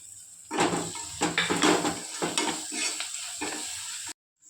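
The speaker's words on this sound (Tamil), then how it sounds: "தேவையான அளவு கரம் மசாலா எல்லாம் போட்டு நல்லா வதக்கணும்" Mutton gravy masala with garam masala being sautéed in a pan, with a spoon scraping and stirring in bursts over a soft, steady sizzle, close and fairly loud, ending in a brief silence.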